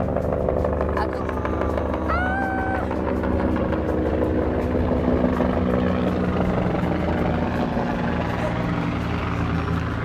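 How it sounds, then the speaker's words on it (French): Helicopter engine and rotor drone as a steady, loud continuous rumble through the whole stretch, with people talking faintly over it. "Moment détente. Hélicoptère."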